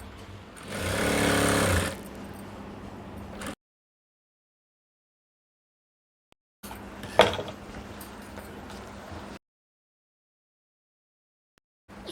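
A sewing machine stitches skirt panels together in two separate runs of steady mechanical whirring, the first one louder, with silent gaps between them.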